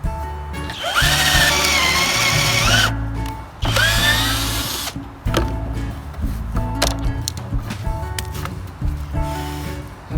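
A power drill drives screws into the boards of a wooden king-size platform bed frame, whining loudly in long bursts with short pauses between, no talking.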